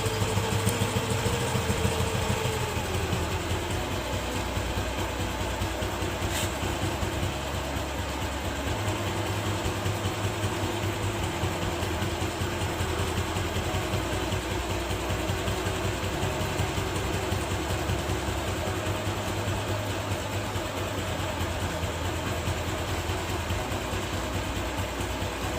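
A motorcycle engine idles steadily during carburetor air-fuel mixture screw adjustment, a close, constant low mechanical hum that persists unchanged for the whole stretch with no voices.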